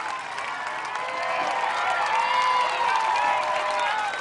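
Crowd at an American Ninja Warrior course cheering a struggling competitor, a continuous blend of shouts, whoops and clapping at moderate level that swells midway and stays steady.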